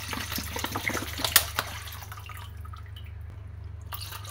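Water poured from a 500ml bottle for measuring while mixing flour for vegetarian bánh giò, a close splashing, trickling flow that fades to a quiet kitchen background.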